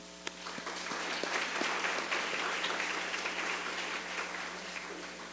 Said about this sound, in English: Let's applaud this long overdue accomplishment.